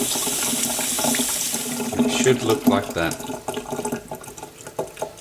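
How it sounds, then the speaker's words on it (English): Running tap water pours steadily over blackened roasted peppers as they are peeled by hand in a kitchen sink, a continuous close splash with a person talking over it. "just peel all that black off under a little bit of running water"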